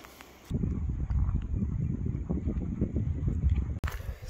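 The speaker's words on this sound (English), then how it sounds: "I won't film too much because it's quite windy up here" Strong wind buffeting a microphone on a coastal hilltop in Scotland by a war memorial, a loud rumbling roar that starts abruptly and holds steady before cutting away near the end.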